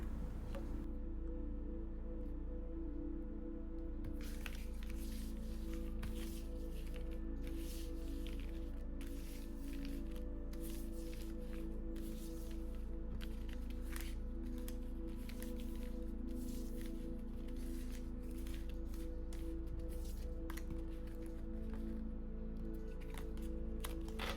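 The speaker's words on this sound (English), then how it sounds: "Let's breathe, center, focus, and shuffle this deck." Tarot deck being shuffled by hand, soft repeated card riffles and slides running steadily at close range over a constant low background hum, with no talking.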